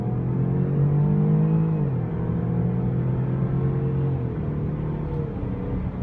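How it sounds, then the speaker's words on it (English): A 2015 Range Rover Sport HSE with the 3.0L engine accelerates at about three-quarter throttle, heard from inside the cabin as a loud, steady engine drone that climbs in pitch, drops at a gear shift, then climbs again. "We'll go ahead and do a little acceleration here."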